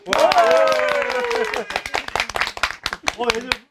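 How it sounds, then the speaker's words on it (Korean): An audience at a Korean book talk breaks into sharp, uneven clapping that thins into scattered claps, while a voice speaks over the start. "한 번 더 박수 쳐야 돼."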